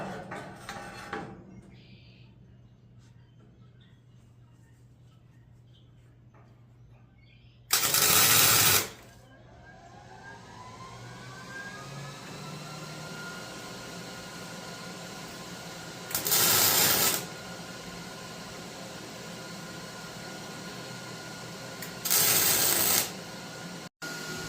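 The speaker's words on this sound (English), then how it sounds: "So let's get this piece welded on." A steel piece is welded onto a trailer BBQ smoker in three short, loud, crackling bursts spaced several seconds apart, with a steady low workshop hum filling the gaps.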